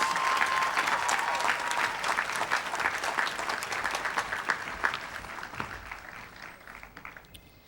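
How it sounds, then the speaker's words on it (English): Sustained audience applause fills an undergraduate commencement ceremony during a student leadership award presentation: dense, continuous clapping from a large crowd that eases off slightly toward the end. "Let's give Kristin a round of applause."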